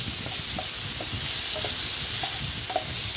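Marinated paneer frying in a kadai of oil, a steady close sizzle with soft stirring scrapes and small pops throughout, no voices.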